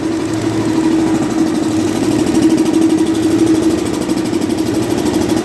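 A single-cylinder diesel engine on a test rig with an electrical load idles steadily with no load, a loud, even chugging thump with constant rhythm throughout.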